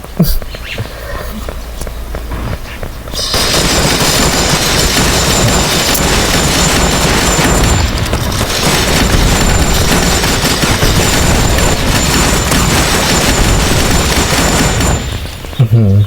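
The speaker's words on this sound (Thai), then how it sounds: "หุ่นรถที่มันยิงยิงมิสไซล์ครับโคตรแรง" A robot vehicle firing missiles in the video game Bad 2 Bad: Apocalypse, heard as a loud, continuous barrage of blasts and gunfire that runs for most of the stretch after a quieter opening.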